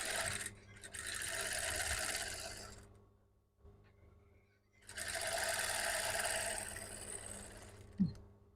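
A sewing machine stitches a bustier yoke in two sustained runs separated by a quiet pause, its rapid needle chatter close and clear, ending with a brief clunk.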